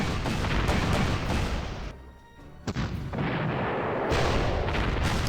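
Artillery fire in the World War II strategy game Panzer Corps, booming gun blasts over a dense rumbling barrage, with a short lull and a sharp crack before the bombardment resumes.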